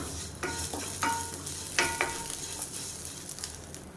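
Curry leaves and tamarind roast in a pan for a neem-flower thovayal, with a soft background sizzle broken by several scraping strokes of a ladle against the metal.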